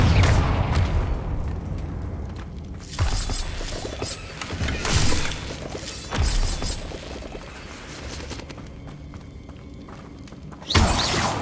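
Confringo explosive spell in Hogwarts Legacy, a series of booming blasts and crashing thuds with shattering debris, several strong hits spaced over a rumbling game background and one final loud burst at the end.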